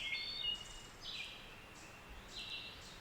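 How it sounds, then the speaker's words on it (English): Several birds call outdoors, faint high chirps and whistled notes repeating in loose bursts over steady background hiss. "Can you hear all those birds calling?"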